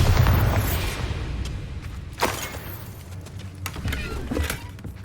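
Bombarda spell explosion in Hogwarts Legacy video game: a loud rumbling blast at the start that decays into a noisy wash, with smaller crackling bursts and thumps trailing after it.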